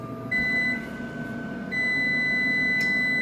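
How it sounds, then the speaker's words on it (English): Air fryer timer sounding a high electronic beep that holds steadily, pauses briefly, then resumes and continues to the end over faint kitchen hum. "Timer says it's ready."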